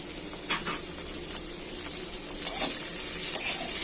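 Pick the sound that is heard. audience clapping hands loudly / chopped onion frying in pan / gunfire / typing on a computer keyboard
chopped onion frying in pan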